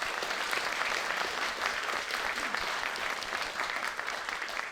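Audience at an Irish music festival applauding a performer, sustained dense clapping from a crowd at a steady level throughout, fairly close.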